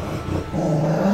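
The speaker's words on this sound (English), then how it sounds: "Sorry about the dogs." Dogs barking and growling indoors, a low rumbling growl building into louder sustained vocalizing, close and fairly loud throughout.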